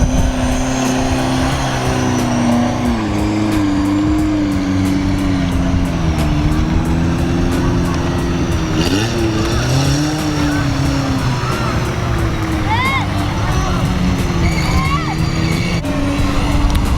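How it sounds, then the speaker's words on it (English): Off-road racing vehicles revving and driving at an outdoor race event, with engine drone rising and falling steadily throughout and loud wind noise, as the vehicles reverse and manoeuvre. "Seems like now they are reversing to go back this way."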